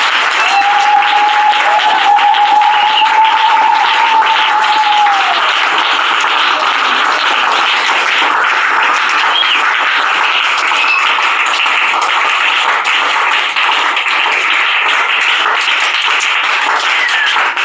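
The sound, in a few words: church congregation applauding for Jesus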